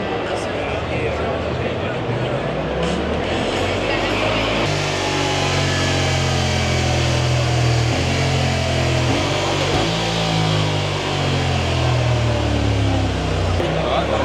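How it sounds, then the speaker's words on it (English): Honda dual-clutch motorcycle revving at a busy motorcycle show, a loud engine whose pitch climbs and falls in repeated sweeps over steady hall noise, with people talking under it. "You can hear it in the background revving up like hell."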